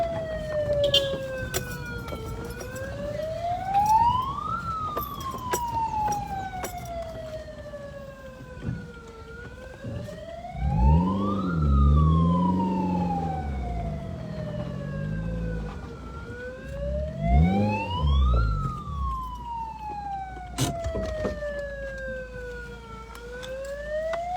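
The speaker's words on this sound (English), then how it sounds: "the purpose of this siren is so that oncoming drivers can be cautious of the cyclists" A wailing siren rises and falls in slow cycles, escorting cyclists on a fun ride held by the Dominica Cycling Association. It sounds at moderate distance, and a vehicle engine rumbles underneath in the middle.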